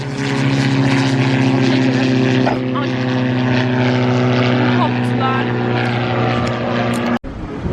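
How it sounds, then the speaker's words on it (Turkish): Propeller airplane flying overhead, a loud steady droning engine hum with strong tonal harmonics, sustained and close, while a person speaks briefly over it. "Yine uçak geçiyor tepemden."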